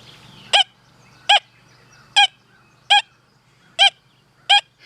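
A Deus 2 metal detector responds to a silver dime lying with flat iron, with the silencer turned down to 2. It gives six short, evenly spaced tonal beeps, clear and fairly loud over a faint low hum.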